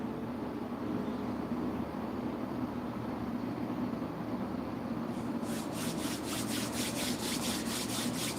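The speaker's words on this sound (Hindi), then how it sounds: "दोनों हथेलियों को घिसे" Palms pressed together and rubbed briskly, a close, soft run of short rhythmic swishes in the second half over a low, steady background hum, with no talking.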